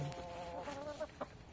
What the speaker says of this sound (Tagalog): Ito naman syempre ang aking mga alagang manok.